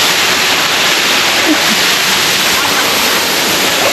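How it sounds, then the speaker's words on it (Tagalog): A waterfall tucked away in a hidden spot, heard from up close as a loud, steady, unbroken roar of rushing, crashing water that fills the whole clip. "Unli waterfalls."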